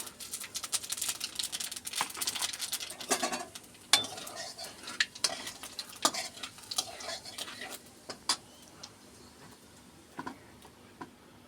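Chilli powder, cumin powder, salt and nigella seeds frying in a little oil for a tilapia fish curry, giving a steady close crackle and sizzle with scattered stirring taps and utensil clicks throughout.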